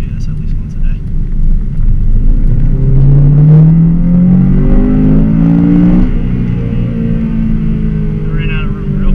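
A Nissan car engine revs up hard and accelerates, its pitch climbing in a strong, close sweep before easing off, with someone talking over the engine noise.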